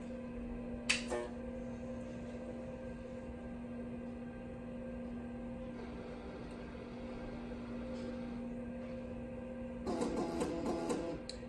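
A 1982 DEC Rainbow 100 personal computer runs after power-on, giving a steady fan and electrical hum with a constant tone, plus brief clicks and a louder flurry of drive noise near the end.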